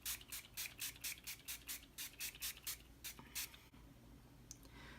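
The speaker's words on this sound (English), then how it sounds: "So I'm gonna go ahead and spray my face with my DIY setting powder," A rapid series of about a dozen short, hissing bursts of DIY setting spray onto a face, close and fairly quiet, then a pause with faint handling noises.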